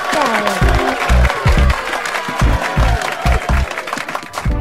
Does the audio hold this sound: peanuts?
no